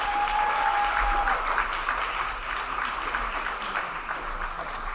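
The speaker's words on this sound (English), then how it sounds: "big round of applause for this young man" Sustained applause from an audience at a Disability Mentoring Day reception fills the clip, steady clapping throughout, with a brief tone at the start.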